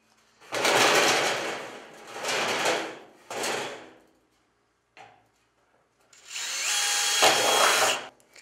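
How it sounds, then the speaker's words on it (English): Power drill with a 1/4 inch bit boring vent holes in a trash can barbecue grill and smoker, loud and close, running in three bursts, then a brief pause and one longer final run. "These don't have to be very big holes, like a 1/2 inch. I'm going to start out with this 1/4 inch bit."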